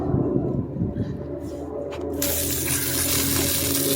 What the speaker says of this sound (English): let's go ahead and give this a rinse